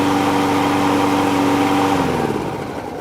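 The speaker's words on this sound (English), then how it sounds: "leave it up until the engine comes to a complete stop" A 22T machine's engine drones steadily and loud, then winds down and fades as it is shut off, coming to a stop near the end.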